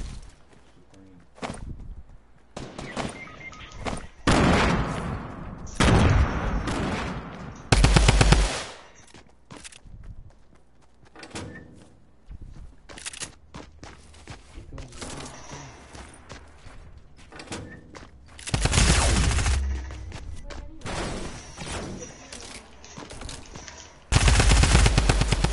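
Video game gunfire, bursts of rapid automatic fire and single shots that come and go across the span, loud and close, with stretches of quieter game noise and occasional voices between them.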